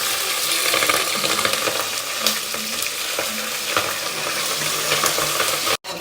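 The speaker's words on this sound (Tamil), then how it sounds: "பச்சை மிளகா நம்மளுக்கு இந்த அளவுக்கு நல்லா ஃப்ரை ஆகணும்" Chopped green chilies frying in oil for chicken biryani, a steady close sizzle with stirring scrapes, continuous and loud before a brief cut near the end.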